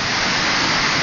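Rushing water in a forest stream on Gunung Kledang makes a dense, even broadband roar, loud and close, with no pauses across the short stretch.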